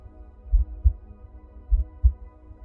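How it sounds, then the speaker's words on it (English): A deep, slow heartbeat thumps through a guided meditation in two lub-dub pairs over a soft sustained hum, close and prominent, with no speech. "feel your own heartbeat echoing through the space"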